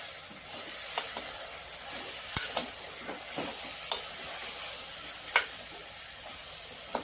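Cauliflower, cabbage and brinjal fry in a pan for vegetable khichdi, giving a soft continuous sizzle and hiss broken by a few sharp clinks and scrapes of stirring.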